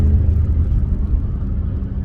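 A BMW 650i with a 4.4 V8 twin-turbo cruises over a bumpy, potholed road, heard as a steady low cabin rumble with faint road whir.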